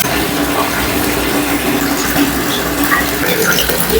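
Tap water runs into a bucket for hand-washing clothes with fabric softener, a loud, steady gushing and splashing that fills the whole stretch with no talking.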